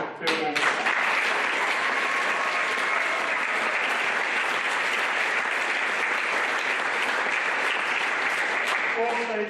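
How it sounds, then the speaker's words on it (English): Audience applause for the set builders at a youth nativity performance, a dense, steady roar of many hands clapping for the full stretch at close range, with a voice briefly heard at the start. "can we also just give a quick round of applause for the amazing set to Nick Lettington and"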